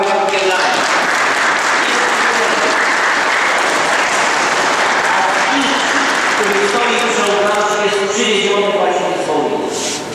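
Applause at a school banner consecration ceremony, a large audience clapping loudly and continuously for about ten seconds, with faint voices mixed into the crowd noise.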